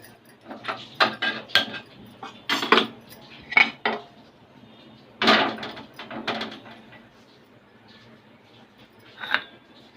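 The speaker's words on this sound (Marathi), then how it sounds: "सध्याला पहिलं गॅस पेटवून त्याच्यावर तवा ठेवायचा।" A metal tawa griddle being set onto a lit gas stove in a home kitchen, heard as a few close clanks and scrapes of metal in uneven bursts, with no talking.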